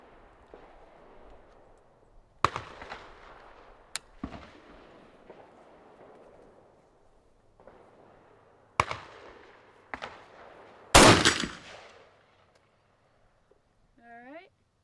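Several sharp, loud reports from a Beretta ARX100 rifle fired outdoors, spaced irregularly across the span, with one heavier burst near the end and quiet gaps between.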